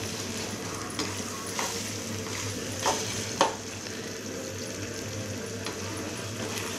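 Small tomatoes frying in a pan, a steady close sizzle with a few soft scraping clicks from stirring, heard on its own without talk.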